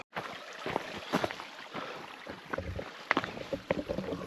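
Water rushing and splashing at a stream crossing on a hiking trail toward waterfalls in Ojai, with footsteps and scuffs over a steady broadband wash, close and moderately loud, wind buffeting the microphone.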